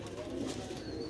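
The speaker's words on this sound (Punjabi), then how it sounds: "ਕਬੂਤਰ ਮਾਸ਼ਾਅੱਲਾ" Rooftop pigeons of a Sialkoti breed coo softly in a brief, low murmur against quiet outdoor background.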